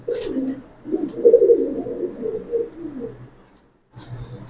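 Pigeons coo close by in a loft of fancy pigeons, including a silver Bagha, as a few soft, throaty rolling calls overlap for several seconds before falling quiet, then another starts.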